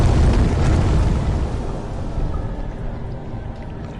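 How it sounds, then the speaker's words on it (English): Sewer water rushing in the video game Amnesia: The Dark Descent, a loud low roaring surge that eases into a steady, softer flowing wash. "There, I redirected the sewer water."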